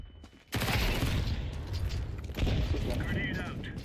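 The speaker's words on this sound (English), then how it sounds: "Deploying flashbang." A flashbang grenade goes off in a video game: a sudden loud, close blast, then a dense roar that swells again midway, with a thin high ringing tone near the end and faint voices under the noise.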